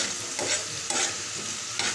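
Sliced onion and two or three green chilies frying in a pan while being stirred, a steady bright sizzle broken by periodic scraping strokes, close and fairly loud with no talking.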